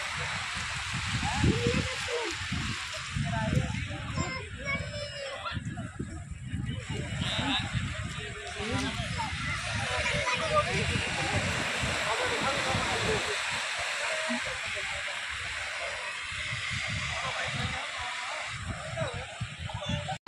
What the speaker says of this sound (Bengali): দেখো এই দেখো কীরকম পরিমাণে ঢেউ, জাস্ট দেখো